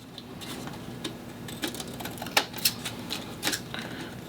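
A paper trimmer cuts down a card for embossed card layouts, giving a series of light clicks and short sliding scrapes in an irregular rhythm, close and quiet, with no talking.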